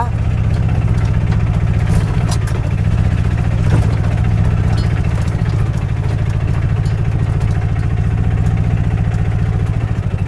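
A Bajaj Maxima auto rickshaw engine chugs loudly and steadily in first gear, a close, even low throb with fine rhythmic pulsing, while someone talks over it.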